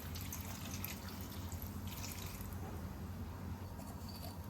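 Water pours steadily into a cooking pot holding a small piece of jaggery, a continuous, faint rushing splash for several seconds with no talk over it.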